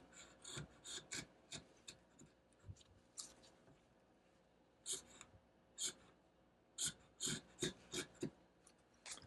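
A WORKPRO wood chisel pares the end grain of construction lumber in a series of short, scraping rasps, close and quiet, coming in irregular bursts with gaps between strokes.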